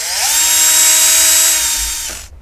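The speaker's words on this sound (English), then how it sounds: "my small drill here, and I'm going to set the torque on it very low, and this will just run these things up" A small cordless drill set to low torque whirs in one steady, loud burst of about two seconds, running screws into the secondary clutch of a 1993 Kawasaki KLF400 ATV, then stops.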